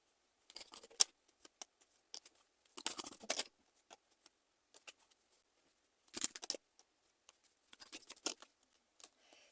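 Tarot cards are shuffled close up in several quick bursts of crisp flicking and riffling, with short quiet pauses between the bursts.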